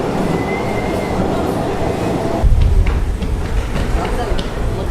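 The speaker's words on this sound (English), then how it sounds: "on our way to our next stop, again using the subway" A Seoul subway train rumbles along the metro with a steady, close ride noise that swells into a heavier low rumble partway through, with a murmur of voices in the carriage.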